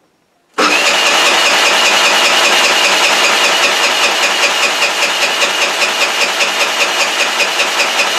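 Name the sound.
motor scooter engine cranking and trying to start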